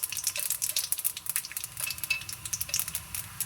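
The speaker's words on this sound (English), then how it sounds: "Wait for it to splutter a little bit" Cardamom pods and cinnamon sticks spluttering in hot oil, quick crackling pops and a bright hiss in uneven bursts, close and fairly loud, with no voices.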